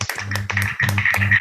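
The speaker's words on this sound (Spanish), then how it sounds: "ofrecerle a Inés un aplauso" Audience applause in a Spanish-language online interview session, a brisk patter of a few pairs of hands clapping in quick uneven bursts, close and fairly loud.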